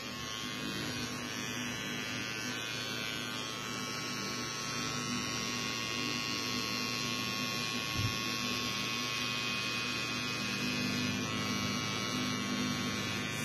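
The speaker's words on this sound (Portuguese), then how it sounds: "Primeiro eu trabalho a parte de cima com a máquina de acabamento" An electric finishing clipper trims the top of a men's freestyle haircut, giving a steady, close electric hum and buzz that runs without a break.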